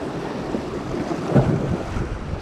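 A side wind blows on a shoreline where someone is fishing, buffeting the microphone in a steady low rumble with a gust swelling near the middle, and the surf sounds faintly beneath it.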